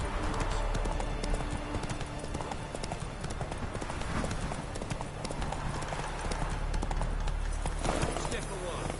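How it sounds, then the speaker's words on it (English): Horse hooves clip-clop steadily at a brisk pace in The Witcher 3 video game, close and continuous under game ambience, with characters talking over the hoofbeats. "Whoa there, Roach."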